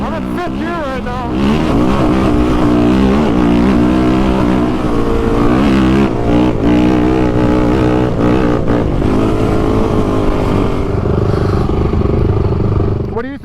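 An off-road vehicle with XTravel BVS suspension runs in 5th gear, its engine droning loud and steady with shifting pitch over rough terrain, with a voice talking over it.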